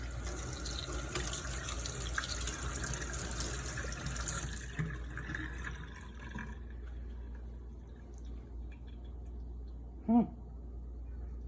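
Tap water runs into a sink for several seconds as an egg is rinsed under it, then fades away, leaving a brief clink near the end.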